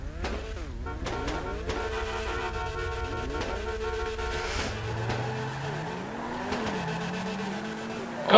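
A Honda Civic EG6 with a K20 VTEC engine races in GTA 5, revs climbing and falling through gear shifts as other cars roar and tires squeal around it, continuous and fairly loud.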